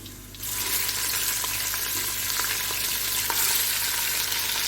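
Minced beef for shami kabab hits a hot pan and the quiet background jumps to a loud, dense, steady frying hiss with faint stirring clicks, close by.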